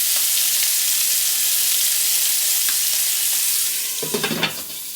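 Spotted sea trout fillets frying in butter give a loud, continuous close sizzle, and near the end a few stirring or scraping knocks break through before the hiss eases slightly. No voices.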